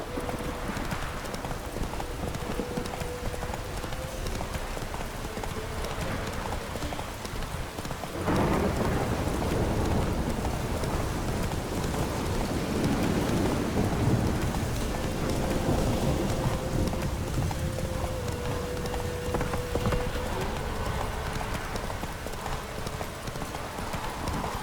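Roach the horse in The Witcher 3 video game, hooves clip-clopping in a steady running rhythm, close and continuous, under falling rain and low rolling thunder with no voices.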